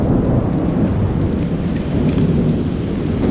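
Heavy rain pours down steadily with a deep, rumbling roar of thunder underneath, loud and continuous throughout.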